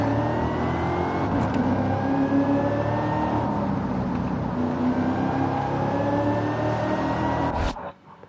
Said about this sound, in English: that whine you hear is what's known as a supercharger